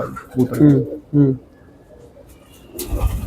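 A pigeon coos in low, throaty bursts nearby, with a few soft coos repeating while a person talks faintly in the background.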